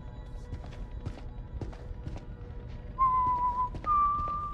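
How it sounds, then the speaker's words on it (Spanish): A man whistles a tune in the video game House of Ashes: two sustained, clear whistled notes come in during the last second and a half over quiet background shuffling and ambience. "Este cuate se la pasa silbando lo mismo."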